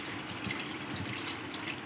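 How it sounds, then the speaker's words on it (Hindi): About a liter of water pours steadily into mutton in a karahi for mutton karahi, a continuous close splashing rush with no talking. "अब इसमें मैं पानी शामिल करूँगी इतना जितने में हमारे मटन जो है गल जाए"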